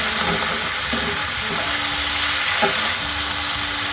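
A pan of chili chicken sauce sizzles loudly and continuously, a dense close hiss with faint stirring clicks and a few brief hums.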